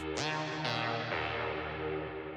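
A spacey ambient synth lead in deep techno sings sliding, sustained notes that repeat in dotted-eighth echoes and wash into long reverb, steady and fairly loud with no voice.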